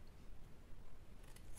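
Scissors cut around a piece, producing a few quiet, close snips near the end against faint room noise.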